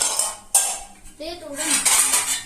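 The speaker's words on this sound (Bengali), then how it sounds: "দাঁড়া আমি কাটা চামচ দিচ্ছি" Metal forks clatter and scrape against plates at a home table where Korean spicy noodles are being served, loud and close, with a brief clank and sliding scrapes and a voice briefly heard.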